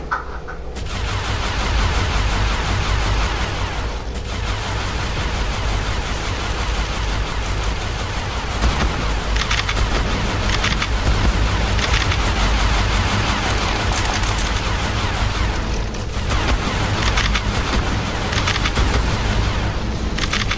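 Rapid tech turret gunfire in ARK Survival Evolved, a dense continuous barrage of shots with booms during a battle against Gigas, loud and sustained throughout.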